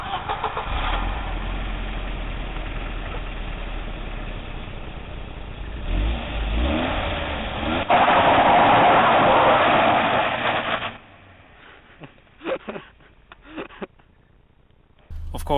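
A rear-wheel-drive drift car's engine cranks, catches and settles into a rough idle, then swells into a loud rev before cutting off to near quiet, with a few scattered knocks and short bursts at the end.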